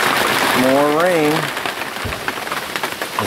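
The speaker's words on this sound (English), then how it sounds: "More rain." Steady rain falls at an off-grid property among sheltering trees during a thunderstorm, a loud continuous patter with scattered drops. A voice briefly speaks or hums near the start of it.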